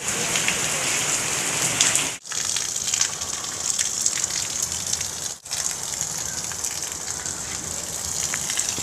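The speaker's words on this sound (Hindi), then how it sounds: "तेज बारिश अल्लाह माफ़ करे।" Loud, steady downpour of heavy storm rain, close and continuous, with water gushing and splashing under the roar and two brief breaks, rain flooding into a house.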